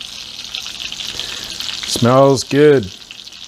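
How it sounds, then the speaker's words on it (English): Stuffed pork loin chops pan frying in a pan give a steady bright sizzle throughout, with a person briefly speaking close by near the end over the frying. "I've finished pan frying them"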